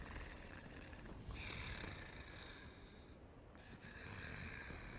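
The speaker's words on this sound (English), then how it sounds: "What's with the snoring?" A creature in the game Dark Souls snores with deep, rough breaths. The sound is faint and comes in about three long, slow cycles with no talking.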